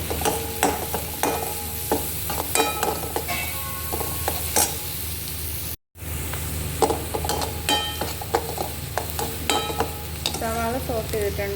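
Chopped onion sizzles in a hot pan while being stirred for chicken fried rice, a steady frying hiss broken by utensil scrapes and clinks, with a brief dropout midway.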